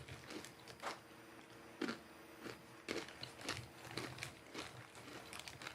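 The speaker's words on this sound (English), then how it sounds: "You can hear me crunching, can't you?" Someone crunches a snack, a series of close, crisp bites and chews in an irregular rhythm, fairly quiet.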